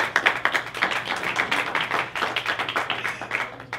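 Steady, close studio audience applause for a talk-show guest, a dense run of hand claps with no talking.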